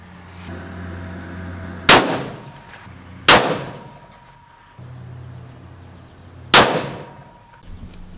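A shotgun fires shells outdoors in three loud, sharp blasts spaced a couple of seconds apart, each with a ringing decay and a quieter background between shots.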